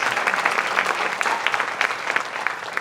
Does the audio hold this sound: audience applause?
yes